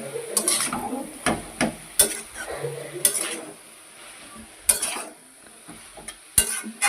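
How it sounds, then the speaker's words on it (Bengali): Vegetables fry in a pan seasoned with cumin and chili powder while a metal spoon stirs them: sharp clanks and scrapes against the pan in irregular bursts over a faint sizzle, close by. "ভালো করে নাড়িয়ে নিলাম।"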